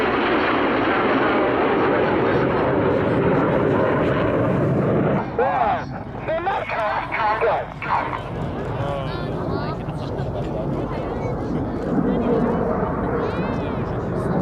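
Red Arrows jets roar past at a 2019 Cosford airshow, a loud sustained rumble that dips and swells as the aircraft pull apart, with a commentator talking over it throughout.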